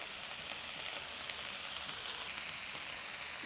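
Frozen broccoli and mushrooms frying in a pan for a spicy beef stir-fry, a steady soft sizzle without pause throughout, fairly quiet and close, with no voices.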